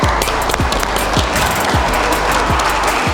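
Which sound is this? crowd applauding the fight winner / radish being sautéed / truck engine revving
crowd applauding the fight winner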